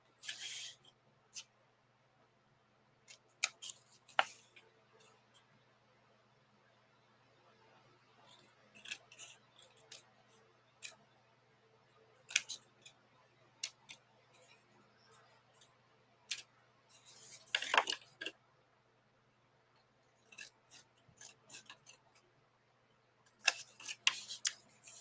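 Scissors snip small pieces out of paper in a quiet room, with scattered short crisp cuts that come singly or in quick bursts and a few louder clusters of snipping.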